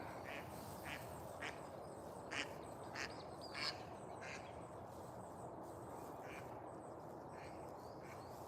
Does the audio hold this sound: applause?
no